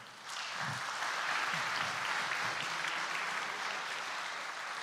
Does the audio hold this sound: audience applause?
yes